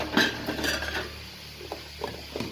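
Broccoli fry being stirred in a pan: a spoon scrapes and clinks against the metal with a faint background hum, loud at first and then softer, scattered knocks.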